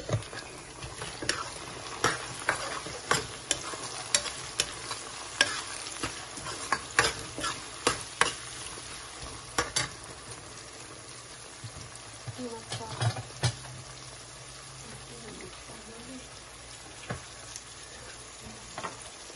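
Onions, ginger, green chilli and tomatoes frying in a pan for a Punjabi potato, carrot and pea sabzi: a steady soft sizzle broken by repeated scraping stirs of a spoon against the pan, close up, with a voice talking briefly.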